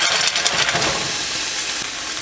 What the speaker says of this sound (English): Saute this for another couple minutes.